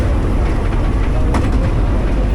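A train crosses Rawa Pening lake in Indonesia with a continuous loud, rumbling roll of wheels and carriage noise heard from on board, plus a brief rattle midway.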